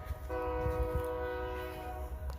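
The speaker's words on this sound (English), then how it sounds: "Y'all hear the train in the background." A train horn sounds in the distance behind a backyard vegetable garden, one sustained multi-tone blast lasting nearly two seconds over low outdoor rumble.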